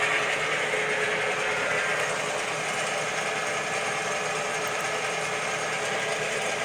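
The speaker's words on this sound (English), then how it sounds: "I'm running the end mill at 450 RPMs" A DIY benchtop CNC machine spinning an end mill at 450 RPM makes a steady, dense mechanical whir that runs unbroken at an even level, with no talking.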